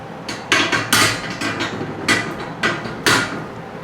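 A piece of wood stands in for a rubber hammer, tapping braces into the posts of a Dewalt two-shelf industrial storage rack: about nine sharp, close knocks at an uneven pace, alone.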